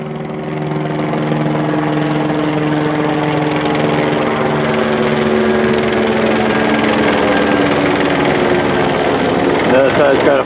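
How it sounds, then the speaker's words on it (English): A helicopter roars steadily and loudly overhead, its rotor thudding throughout, with the engine drone swelling slightly near the end. "Helicopter approaching again for another direct flyover."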